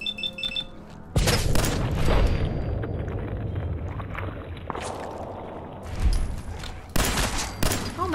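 Gunfire in Fallout 4 erupts in loud bursts, sharp cracks and booming impacts across several seconds, with quieter gaps between volleys and a few fainter game sounds in the background.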